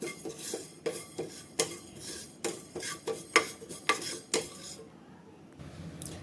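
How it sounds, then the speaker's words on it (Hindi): Cumin seeds dry roasting in a pan on low heat for a Punjabi mango pickle, heard as a series of sharp, regular metal scrapes and clinks from stirring, about a dozen strokes, close and alone, then a quiet pause. "इसी पैन में अब 2 चम्मच जीरा डाल देंगे। इनको भी धीमी आंच पे ही रोस्ट करना है।"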